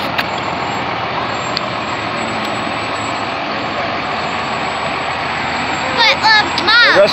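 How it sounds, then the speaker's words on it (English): A fire truck rolls past in a memorial parade with a loud, steady engine rumble close by. Near the end come brief whistle-like sweeps, and the crowd talks over the noise. "That's Spring Bell fire truck."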